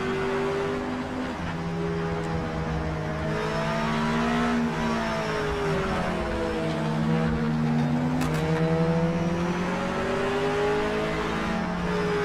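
Mazda MX-5 race car engine in Project Motor Racing, a steady high-pitched drone with rising and falling revs through gear changes, loud and continuous for the whole stretch with no talking.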